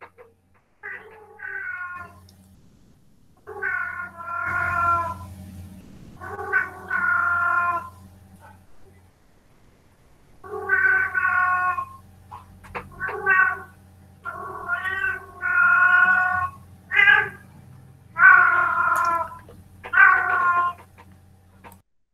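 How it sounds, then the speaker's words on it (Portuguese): Cats meow and caterwaul loudly and insistently in a series of drawn-out, wavering cries, with brief pauses between, close to the microphone and with no speech over them. "Os gatos estão loucos aqui."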